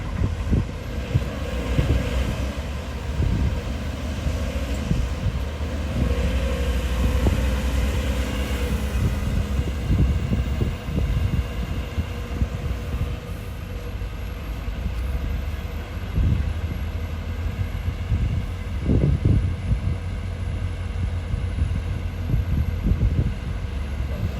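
A SANY SY215C-10 excavator's diesel engine runs steadily, heard from close behind the machine at a reservoir worksite, a continuous low rumbling drone with some wind buffeting and no speech.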